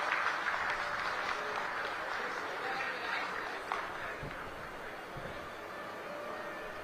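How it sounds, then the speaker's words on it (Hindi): A hall audience at a hospital inauguration ceremony in Agra claps to welcome the guests, a moderately loud, steady patter of applause with faint chatter and a little laughter mixed in. "जोरदार तालियां बजाकर उनका स्वागत करें"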